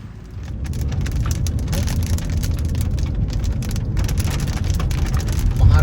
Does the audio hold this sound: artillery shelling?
no